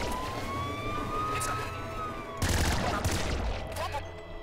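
Laser minigun firing in the Nuclear Throne video game: rapid sustained electronic buzzing fire with warbling high tones, growing denser and louder about halfway through, under occasional speech.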